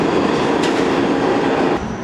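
A New York subway train rumbles loud and close, with a steady roar of wheels on track and a brief high screech near the start, easing slightly at the end.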